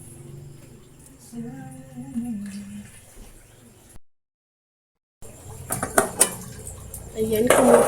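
Pots and pans clatter in a home kitchen while water is brought to a boil for Filipino sinigang fish soup; a soft voice hums early on, then after a short silence louder metallic clanks and scraping build up close.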